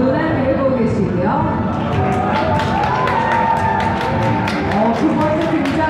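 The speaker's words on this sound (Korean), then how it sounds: "두 번째 등장만에 어마어마한 박수 소리가 나오고 있습니다." An audience at a Mabinogi cosplay stage event applauds and cheers loudly and continuously, with a voice talking over the noise.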